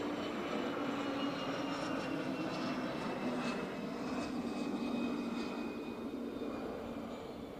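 A CJ1 Plus business jet taxis or lands at Barcelona El Prat airport, heard as a steady, faint, distant engine whine and hum with a broad roar that holds evenly and fades slightly at the end.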